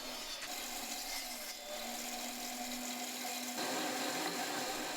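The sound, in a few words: pedal-powered circular saw cutting wood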